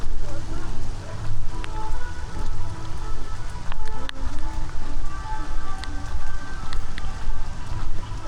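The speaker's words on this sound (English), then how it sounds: "before the rain even stops" Steady rain patters and hisses over a dense background of crowd noise and voices at a Disney World water park after a thunderstorm, continuous and loud throughout.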